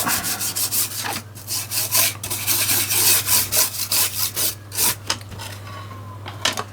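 Cleaning the grooves inside an old, grubby remote control by rubbing, heard as rapid close scrubbing strokes in a steady back-and-forth rhythm over a constant low hum, with no voices.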